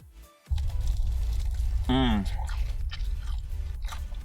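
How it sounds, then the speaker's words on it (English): Close, wet chewing and biting on Jollibee Chickenjoy fried chicken, a steady crunchy mastication running throughout after a brief pause, with a short vocal murmur in the middle. "I'm gonna go for a huge bite with this one"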